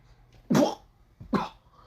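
Two separate coughs, close and fairly loud, with a short quiet pause between them.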